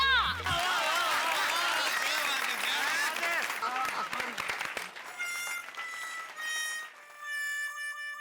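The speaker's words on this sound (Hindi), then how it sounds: "ओह तालियां।" A small crowd of society residents claps at a Ganesh festival gathering, brisk clapping lasting several seconds close by, then tapering into scattered claps and fading under background music tones.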